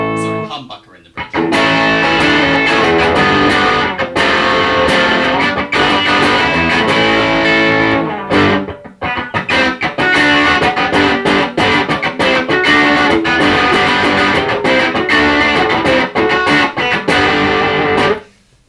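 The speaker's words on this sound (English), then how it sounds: "I really enjoy playing it when it's got some distortion on it." An electric guitar through a humbucker bridge pickup with distortion engaged plays loud, dense, saturated chords almost continuously, with one brief break partway through before ringing out at the end.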